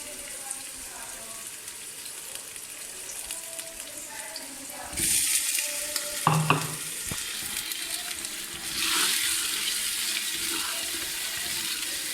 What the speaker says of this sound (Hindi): चिकन को 2-4 मिनट ऐसे ही तक भूनेंगे।